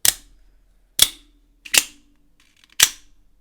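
Four sharp metallic snaps of a Benchmade folding knife blade deploying, fairly evenly spaced, each a crisp click with a short ringing tail, close up with quiet in between.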